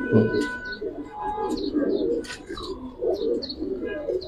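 Male Giribaz pigeon cooing in a loft, repeated soft low coos in a steady rhythm with chirps from other birds, close by against busy background noise.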